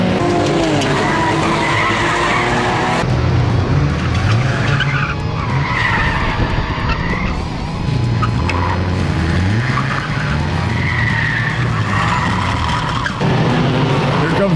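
Race cars skid and squeal their tires loudly in a crash-filled enduro race, trailing tire smoke. The engines roar near and continuous, and an announcer talks over the noise.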